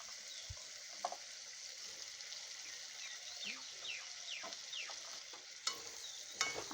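Potato pieces are stirred into a pan of broiler chicken curry frying in oil. A soft, steady sizzle runs underneath repeated scraping and stirring strokes, with a few louder clanks of utensil against pan near the end.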